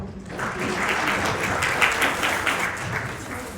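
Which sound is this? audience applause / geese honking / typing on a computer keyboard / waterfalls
audience applause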